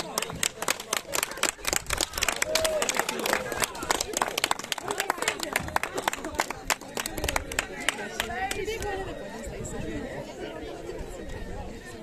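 A crowd applauding at the finish of a village running race in Ulucz, rapid clapping from many hands close by, fading toward the end while people chatter and an announcer speaks.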